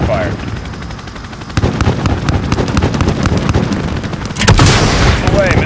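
An aircraft's 30mm cannon in Call of Duty Modern Warfare makes a gun run, a dense rapid hammering of loud shots over rumbling battle noise that swells into a heavier burst near the end.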